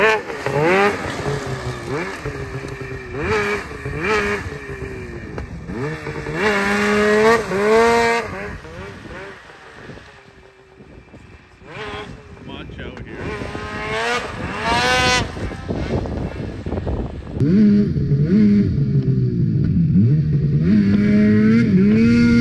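A 2023 Ford Raptor R truck revs hard and spins its tires doing wheelies in deep crusty snow, loud engine roars rising and falling in bursts with a brief lull midway, ending in a sustained growl.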